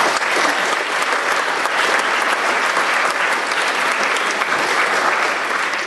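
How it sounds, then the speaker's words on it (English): Crowd at a 2012 campaign kickoff event gives sustained loud applause for the staff, a dense even wash of clapping throughout with no speech. "So let's thank them also and give them a round of applause."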